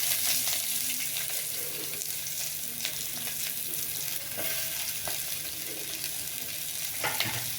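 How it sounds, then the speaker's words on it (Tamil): Onions sautéing in sesame oil in a pan for bottle gourd sambar, a steady close sizzle with occasional soft stirring clicks and scrapes. "வெங்காயம் வதங்கிருச்சு"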